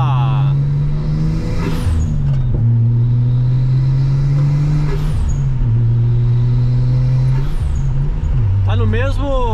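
Nissan Skyline R34 GT-T engine revving repeatedly, with a loud rumbling idle that climbs in pitch through several rev cycles and drops back between them. Voices can be heard over the engine.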